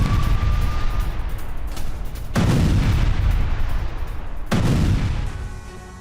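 Mine explosions near Pokrovsk in the Ukraine war, with two heavy booming blasts a couple of seconds apart rolling into a long rumbling roar, loud and sustained, with no voices.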